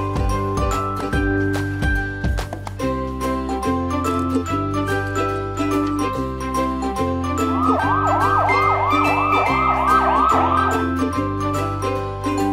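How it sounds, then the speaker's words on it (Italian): A wailing siren rises and falls in repeated sweeps over a busy, jingling musical backing, loud and steady throughout. "Ambulanza."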